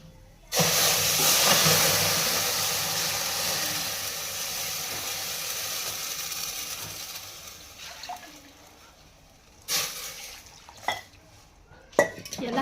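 Vermicelli fries in a pan with a loud sizzling hiss that starts suddenly and slowly fades, followed by a few sharp utensil clinks and scrapes against the metal near the end.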